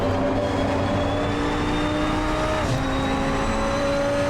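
A KTM X-Bow GT2 race car pulls hard out of a corner at the Red Bull Ring in Assetto Corsa Competizione, its engine note steady and loud with a sustained high-revving drone and no talk.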